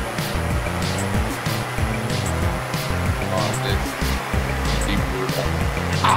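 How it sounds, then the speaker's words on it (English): Engine of a Volkswagen Beetle in the racing game Forza Motorsport 5, a steady, strained drone that runs loud and unbroken the whole time. "The car sounds like it's about to blow up and like just explode."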